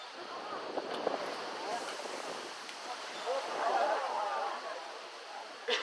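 Food tossed into the water at an alligator farm in South Florida, giving a soft mid-clip splash and churning of water against steady outdoor wind and background noise.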